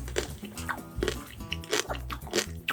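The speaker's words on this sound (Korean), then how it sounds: "아이스크림 롤업 젤리 제가 한번 먹어보겠습니다" Bites into a crispy ice cream roll-up jelly, several close crunchy bites and chewing sounds spread over a few seconds, with faint voice murmurs between them.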